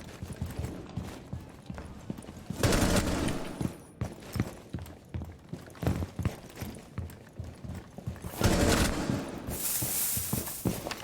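Rapid gunfire in Rainbow Six Siege comes in clustered bursts of sharp shots, loud and close, with two longer dense volleys standing out amid the steady rhythm of individual rounds.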